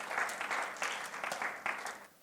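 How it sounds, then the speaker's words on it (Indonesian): A church congregation claps steadily, a dense patter of hands that fades slightly toward the end. "Yang setuju, mari berikan tepuk tangan."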